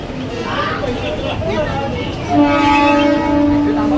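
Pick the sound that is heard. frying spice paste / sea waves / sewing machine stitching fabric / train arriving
train arriving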